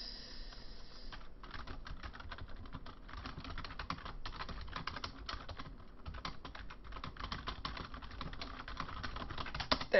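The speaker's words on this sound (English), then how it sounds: "And I just have to type something." Fast typing on a computer keyboard, a dense stream of light close key clicks with a few brief pauses, heard alone with no speech.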